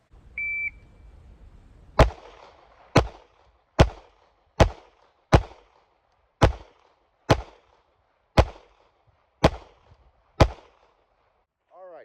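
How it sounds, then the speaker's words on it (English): A pistol fires ten rounds weak hand only from the 5-yard line, each crack sharp and loud, spaced roughly a second apart after a short beep that starts the string. "You have 20 seconds to fire 10 rounds with your weak hand only."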